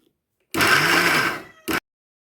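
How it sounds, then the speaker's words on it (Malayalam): A mixer grinder whirs as it spins grated coconut: one loud, steady motor run of about a second trails off, then a brief second pulse. Silence falls before and after. "പകുതി തേങ്ങ ഞാൻ ഇതിനകത്തിട്ടൊന്ന് കറക്കുന്നുണ്ട്"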